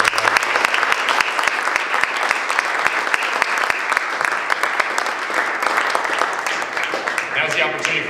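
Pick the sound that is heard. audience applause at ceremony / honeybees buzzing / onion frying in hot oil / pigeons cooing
audience applause at ceremony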